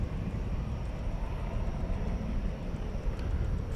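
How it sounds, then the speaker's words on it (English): An American Airlines Airbus A320, built in 2000, arrives at DFW airport at night with a steady, loud broadband engine roar, continuous and close with no talk. "American 2232 is coming in from Omaha, Nebraska. It's an Airbus"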